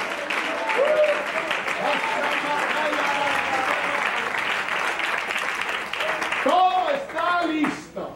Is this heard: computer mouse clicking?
no